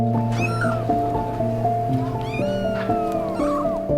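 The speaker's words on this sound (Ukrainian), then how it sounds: "в нас трійки кішки, які, до речі, привели кушенят" Several cats meow repeatedly at a contact zoo, with drawn-out rising and falling cries and caterwauling over a steady tonal hum in the background.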